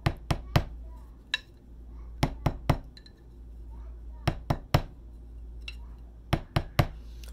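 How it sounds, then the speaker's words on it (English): Drumsticks strike a practice pad sitting on a wooden table in quick clusters of three or four sharp, dry taps separated by short pauses, close and crisp over a faint low hum. "I'm playing on a wooden table on a pad with sticks"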